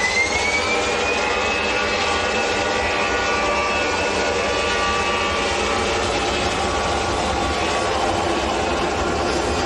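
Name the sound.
EasyJet jet aircraft departing for Barcelona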